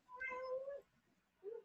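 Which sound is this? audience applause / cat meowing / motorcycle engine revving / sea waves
cat meowing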